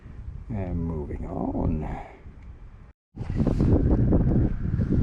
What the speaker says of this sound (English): I hope you can hear me over this wind.